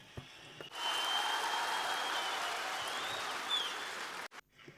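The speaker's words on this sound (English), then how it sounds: "It was the applause from those who could hear us." Steady audience applause at a business seminar in Ekaterinburg, a dense wash of clapping from a room full of people that holds evenly for several seconds and then stops abruptly.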